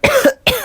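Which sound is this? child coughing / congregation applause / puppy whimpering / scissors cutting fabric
child coughing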